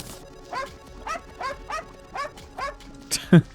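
Small video-game dog pet from a dog collar in Terraria yipping in a quick series of about seven short, evenly spaced high barks, ending with a louder sharper burst.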